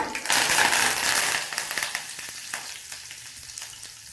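Curry leaves dropped into hot oil with garlic, bursting into a loud crackling sizzle that gradually settles into a softer spatter with occasional pops, close up.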